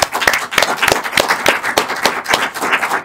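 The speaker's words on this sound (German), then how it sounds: "Applaus für Mike" A cinema audience claps at a live podcast event, a small group producing distinct irregular hand claps, close and fairly loud for about three seconds, with no talk over it.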